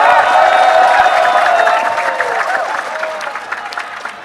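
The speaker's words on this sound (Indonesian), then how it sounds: "Tepuk tangan sekali lagi untuk Rocky Gerung." An audience at a talk-show event breaks into loud, dense applause that fades a little toward the end, with a few voices and cheers mixed in.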